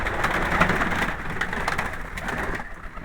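Domestic pigeons kept in a backyard coop cooing steadily amid a dense wash of rain-like noise, continuous and close, with no voices.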